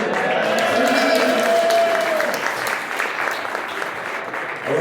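An audience at an album launch concert cheers and claps loudly, a dense sustained burst of applause with a few whoops rising over it, then gradually thinning toward the end.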